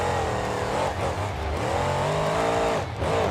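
The Hang 10 monster truck leaves the hot pits for the racing lane during a BeamNG.drive Monster Jam Tampa 2020 freestyle run, its engine roaring loud and steady from start to finish with slight dips in revs.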